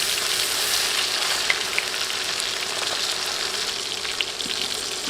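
Fish frying in hot oil, ahead of cauliflower being cooked in the same oil, gives a steady, dense sizzle with small pops and crackles throughout, close and continuous with no talk.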